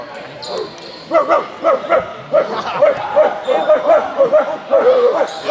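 A basketball game commentator imitates a dog with a rapid run of loud, close yapping barks, mixed in with talk.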